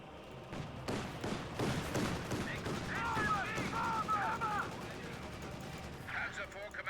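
Battle gunfire in a World War II video game with Panzer IVs and conscripts: a burst of rapid, thumping shots and scattered distant reports, under shouted voice lines and chirping sounds.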